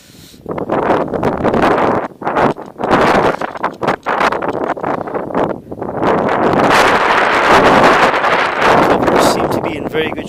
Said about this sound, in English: It is windy out here, so it might pick up in the video.